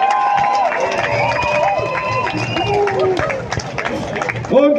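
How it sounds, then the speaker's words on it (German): A marketplace crowd in Lörrach claps and cheers after a Guggenmusik band performance, loud and close, with an announcer talking and brassy tones sustained over the lively clapping. "Nochmal einen riesen Applaus!"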